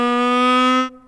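A sampled tenor saxophone from the Tenor Colossus library plays a single middle C with a scoop into the pitch, a bright reedy tone held for under a second and then cut off, played alone.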